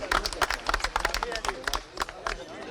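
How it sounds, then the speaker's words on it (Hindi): Loud audience applause at a government ceremony during the Lubuguru festival, with uneven, bursty claps from a moderate-sized crowd and speech babble mixed in. "आपकी जोरदार तालियों के बीच"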